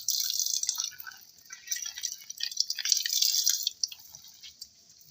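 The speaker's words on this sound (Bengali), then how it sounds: "তো আমরা কলা পাতাটাও ধুয়ে নিচ্ছি এবার, আপনারা দেখতে পাচ্ছেন, পরিষ্কার করে।" A banana leaf being washed by hand in water, giving soft drips, trickles and splashes that rise and fall in irregular bursts, close and fairly quiet, with no talking.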